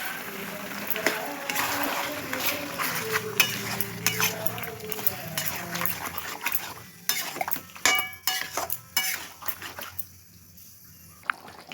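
A spoon scraping and clanking against a pot while spices, Kashmiri chilli powder and whisked yogurt are mixed into mutton, irregular metallic knocks growing sharper toward the end, with a voice speaking faintly in the first half.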